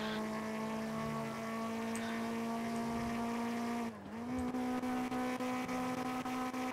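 Engine of a manual-transmission car in a video game, a steady droning tone that drops briefly during a gear change and then climbs again, loud and alone.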